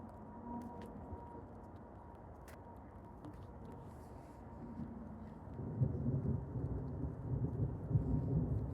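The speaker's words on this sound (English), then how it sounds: "that's a loud thunder" Thunder from a severe thunderstorm in southeast Michigan rumbles low and builds into a louder, sustained roll in the latter half, with rain hissing faintly in the background.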